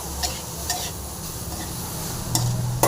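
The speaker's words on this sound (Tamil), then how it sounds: "நம்ம கேரட்டு துருவிட்டு போட்டு நல்லா கலந்துக்கலாம்." A spoon stirs grated carrot into a green pea stir-fry in a pan, with soft scraping and a faint sizzle, then a few sharper scrapes near the end.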